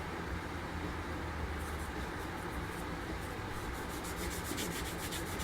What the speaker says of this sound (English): 2000 grit sanding sponge